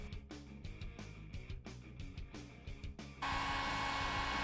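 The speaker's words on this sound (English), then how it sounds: "Heat the entire body of the tape for 5 to 10 seconds at the same temperature" A heat gun warms Squids tether wrap tape, switching on partway through as a steady, loud blowing roar. Before it starts, a choppy, tonal background sound can be heard.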